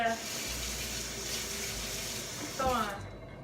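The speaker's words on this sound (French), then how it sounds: "Puis on met juste un petit peu d'eau, un petit fond d'eau." A small amount of water pours into a container from a tap in a steady close trickle, with a brief gush near the end and a voice speaking over it.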